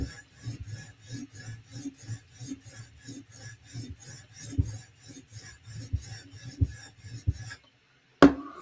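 A knife edge is profiled on a sharpening stone in steady, evenly paced rasping strokes, close and clear, before the rubbing stops and a single sharp knock ends it.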